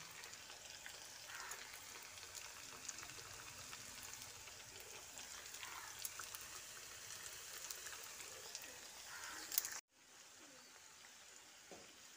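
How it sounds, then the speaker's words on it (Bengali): Tomato chips fry in hot oil with a steady, fairly quiet crackling sizzle that runs for about ten seconds before cutting off and continuing more faintly. "এভাবে সব চিপসগুলো ভেজে নেব"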